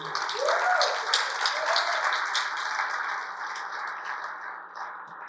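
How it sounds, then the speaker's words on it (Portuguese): A church congregation applauds during a Portuguese-language vigil service, with dense, steady clapping that swells early and then gradually fades, while a faint voice murmurs underneath. "Você pode dar um aplauso ao Senhor?"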